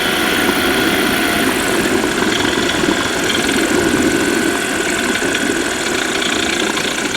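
An aircraft engine drones steadily and loudly as the plane lands on a runway, with no speech over it.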